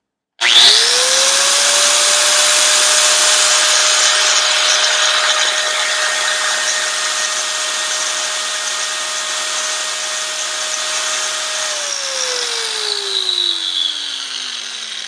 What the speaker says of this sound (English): So to turn it on, I'll pull on this and I'll pull the paddle